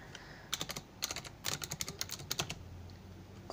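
Quick bursts of computer keyboard typing as a terminal command is entered on a Pop!_OS Linux desktop, with irregular clustered keystrokes and brief pauses, close and clear with no voice.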